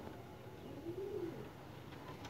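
A soft, low coo from Pakistani flying pigeons rises briefly out of a steady background hiss, faint and somewhat distant.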